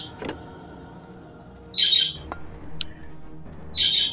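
A bird in the fantasy strategy game SpellForce gives two short, shrill squawks a couple of seconds apart over low game ambience and scattered clicks.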